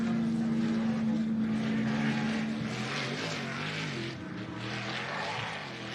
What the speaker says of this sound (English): V8 just idling along.